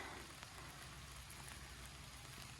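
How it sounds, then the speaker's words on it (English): Rain falls over a sweet potato garden as a faint, steady, even hiss with soft scattered patters throughout. No one speaks. "Ah, darn the rain."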